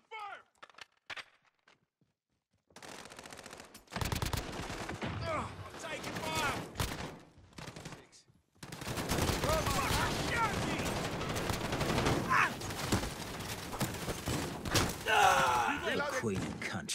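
Heavy gunfire in a Call of Duty match, with rapid bursts and fusillades crackling loud and close, dense and near-continuous after a short quiet lull, while voices shout over the shooting.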